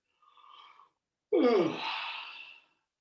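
A person yawns, a faint breathy intake giving way to a loud, drawn-out open-mouthed exhale that tapers off over about a second and a half, close and alone without talk.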